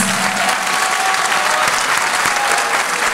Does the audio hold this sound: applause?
yes